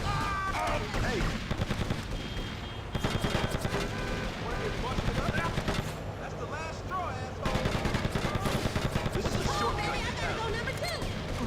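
Rapid bursts of automatic gunfire in GTA Vice City Stories, repeated volleys crackling loudly over music and game noise, with someone talking at points.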